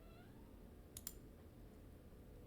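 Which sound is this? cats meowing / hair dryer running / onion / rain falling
cats meowing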